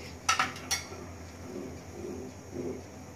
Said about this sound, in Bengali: এখন আমি এটার মধ্যে দিয়ে দিব আমার রান্না করা চিকেনগুলা।